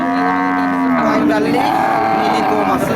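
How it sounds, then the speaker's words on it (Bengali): A cow lets out a long, loud, drawn-out moo close by, over a busy background of crowd noise at a cattle market. "আপনারা শুনলেন এই যে একটা গরু"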